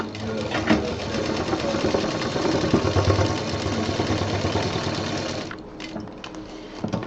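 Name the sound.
sewing machine stitching a handbag's last corner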